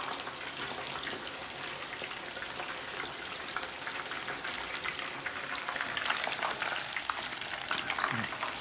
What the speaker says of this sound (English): Fry it for maybe like a minute.